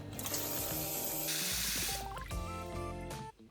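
Plenty of water pours from a tap into a pot of cooked red beans, a loud steady gush with splashing that eases off near the end, while gentle music plays underneath.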